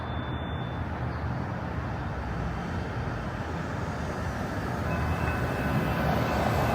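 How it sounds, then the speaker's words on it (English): A steady, low rumbling roar of a train rolling past nearby, building slightly in loudness toward the end, with no voices. "I can hear the train right down the street there"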